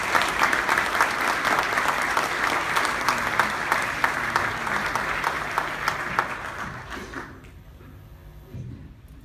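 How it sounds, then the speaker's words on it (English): Loud, sustained applause from a large crowd in an indoor venue, holding steady for several seconds and then tapering off into near silence. "can I start a round of applause for all the support staff in the venue?"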